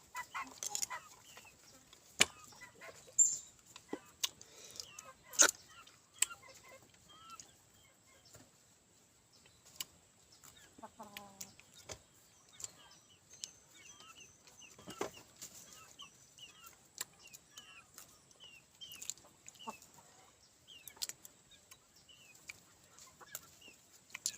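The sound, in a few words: chickens clucking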